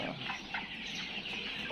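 Tiger breed chickens cluck continuously at close range, a dense, steady flock chatter with several overlapping birds and no clear pauses.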